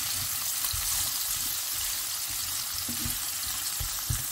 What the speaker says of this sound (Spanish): vamos a cocinar a fuego medio o alto.